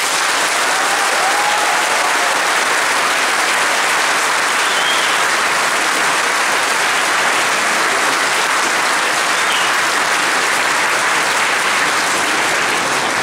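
A large crowd applauds a political candidate list presented at a New Year's ceremony in Valence, with loud, dense, sustained clapping that fills the room at a steady level throughout, and no talk over it.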